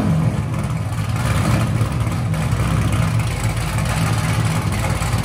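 A cammed Chevy Camaro SS with a 6.2L V8 and headers rumbles loudly and continuously through its exhaust, a deep, choppy idle with slight rises in revs and no voices.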